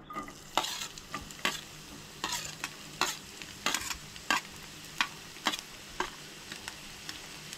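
Onion and chillies fry in oil in a pan for Goan-style dry prawn curry, with a continuous quiet sizzle and regular scraping strokes of stirring.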